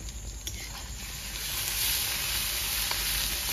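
Ginger garlic paste sizzling in a hot pan for a curry, a steady close hiss that grows louder partway through, with no talking.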